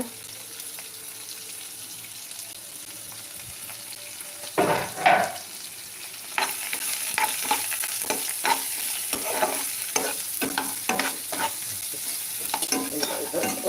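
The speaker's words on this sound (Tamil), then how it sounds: "நல்லா வெங்காயம் கொஞ்சம் வதங்கி வரட்டும்" Onions sizzle and crackle in a hot pan, with a few stirring scrapes and clatters over the steady frying hiss.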